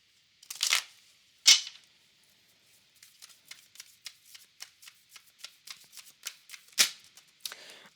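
Tarot cards are shuffled by hand, two sharp riffles at first followed by a quick run of crisp, rapid card flicks and a final riffle, close and clear with no talking.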